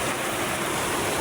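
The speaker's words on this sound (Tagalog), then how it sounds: "Ito lumalabas yung mga tubig." Water gushes out of a hole at a river spot with a loud, dense, unbroken rushing roar, close and steady, with no voices over it.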